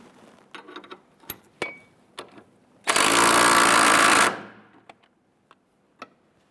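Impact wrench tightening sway bar end link nuts on a 1999-2004 Jeep Grand Cherokee, one loud sustained burst of about a second and a half, set among scattered metallic clicks and taps of tools.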